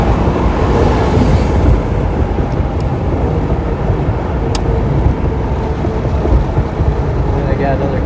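A 1989 Porsche 930 Slantnose Cabriolet pulls hard in fourth gear at around 50 mph while passing a semi on the highway, its engine a loud, steady, close roar blended with heavy road and wind rumble throughout.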